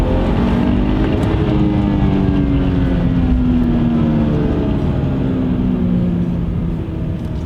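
A BMW 335i E90 with an N55 engine and Pure Stage 2 turbo accelerates hard in a full pull, its loud, close engine roaring continuously as the pitch climbs steadily, with no talking.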